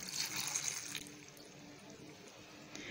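A glass of water poured into a pot of mustard greens for saag makes a close splashing gush that eases into a softer trickle.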